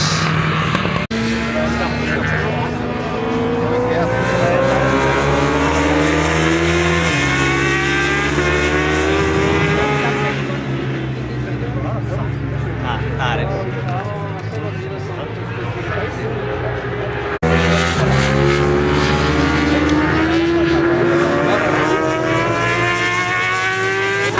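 Superbike motorcycles in a beginners' race at the Pannoniaring circuit roar past in repeated rising and falling engine sweeps, loud and continuous, with people talking over them.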